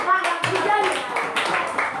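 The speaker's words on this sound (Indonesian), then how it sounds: "Oke, tepuk tangan." A primary school class clapping hands together in a classroom, a short burst of scattered, fairly close claps with children's voices mixed in.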